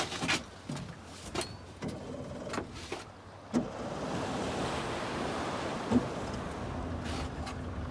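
Waves wash and slosh against the hull of a small beach fishing boat held bow-on after a northerly gale, a steady broadband rush with a few sharper slaps and some wind buffeting the microphone.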